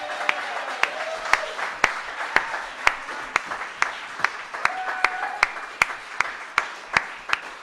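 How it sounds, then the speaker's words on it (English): Applause at a battle of the bands acoustic final, a thin crowd clapping with a loud, steady rhythmic clap near the microphone standing out above a softer wash of hands. "put your hands together and give them a big round of applause"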